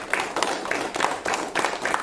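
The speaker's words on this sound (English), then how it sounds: "Come on, everyone, put your hands together." A small group claps for the jury at a Demo Day event, a steady patter of hands in rhythmic waves across a couple of seconds, fairly close and without voices.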